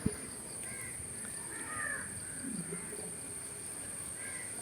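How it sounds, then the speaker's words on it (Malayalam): Crows caw now and then in a large garden, fairly faint and distant over a quiet outdoor background with a steady high whine, other birds barely present. "ഭയങ്കര കിളികളുടെയൊക്കെ സൗണ്ട് ഉണ്ടായിരിക്കും."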